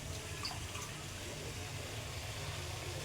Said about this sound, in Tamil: அதுக்கு 4 டம்ளர் தண்ணி ஊற்றணும்.